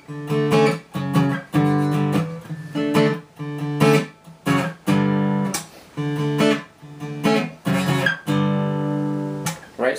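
An acoustic guitar strums a chord phrase in rhythmic bursts of clear chords separated by short gaps, played solo with no voice.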